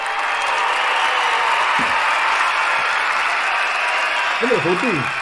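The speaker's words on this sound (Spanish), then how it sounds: "Pido un aplauso en este canal" Studio audience applause, a steady wash of clapping that holds at one level throughout, with a voice breaking in briefly near the end.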